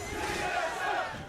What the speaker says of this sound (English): Trying to figure out the chant the crowd is doing.